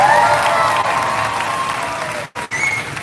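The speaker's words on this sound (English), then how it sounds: "give the Market Stare exhibitors a big round of applause" A crowd of spectators applauds exhibitors at a livestock show. The clapping is steady and dense at first, then fades and cuts out briefly near the end.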